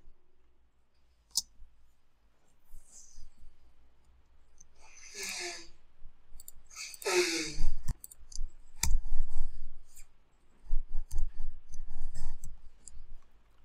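Sparse mouse clicks from digital image editing, removing the background from an object in mixed-media artwork, several sharp taps spread apart against quiet room noise.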